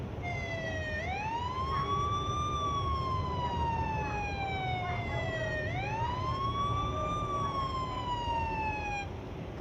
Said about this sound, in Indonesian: Akan saya contohkan dengan menggunakan bunyi sirine.